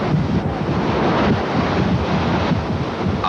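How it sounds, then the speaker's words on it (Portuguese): Violent storm surf during a coastal storm in Massachusetts pounds and wrecks a beachfront house, a loud continuous roar of crashing waves and wind noise with no voices. "A violência do mar destrói a casa toda em segundos."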